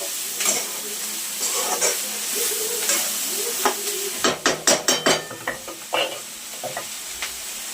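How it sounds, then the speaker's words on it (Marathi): Cluster beans roast in a little oil in a pan with a steady sizzle, while a spoon scrapes and stirs in a run of sharp, close clatters toward the end. "गवारी डाग कुठपर्यंत भाजायची, म्हणजे चवीला खूप छान होते. थोडंसं तेल टाकलेलं मी भाजताना"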